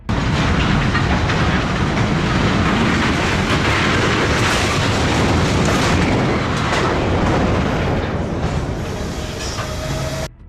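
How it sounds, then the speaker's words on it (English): A freight train crosses the Cowcowlin River Bridge with one rail car running unstable, a loud, continuous rumble and metallic clatter that holds steady for the whole stretch and eases slightly near the end. "The footage shows the train moving over the Cowcowlin River Bridge, with one of the rail cars already appearing unstable."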